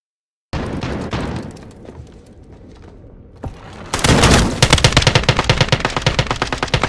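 Modern Warfare 2019 combat: a burst of rapid gunfire, a quieter lull, a sharp crack, then a loud grenade blast followed by sustained rhythmic automatic fire.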